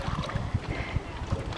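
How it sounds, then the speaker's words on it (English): Kayak paddle strokes pulling through water, a series of soft rhythmic splashes about every few tenths of a second, close by and mixed with wind noise on the microphone. "we gotta lift your paddle forward and then pull it back"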